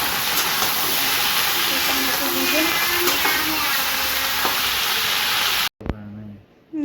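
Garlic sizzling in hot oil, a steady close hiss lasting several seconds before cutting off abruptly near the end.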